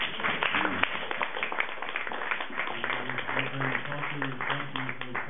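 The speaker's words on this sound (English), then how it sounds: "Another round of applause for our panel" Audience at an urban ideas forum applauds its panel with dense, steady clapping throughout; in the second half, a voice is heard over it.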